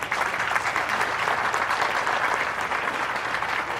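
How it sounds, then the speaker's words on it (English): A crowd applauds the parents at an AESA Prep Academy event, steady dense clapping sustained evenly and fairly loud for several seconds with no voices over it. "How about a round of applause for the parents?"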